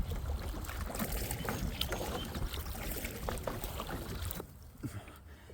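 Headwind blows across open water during a solo backcountry canoe trip in Algonquin. It makes a continuous rushing roar mixed with splashing and gurgling of paddle strokes, then drops quieter near the end, with no talk.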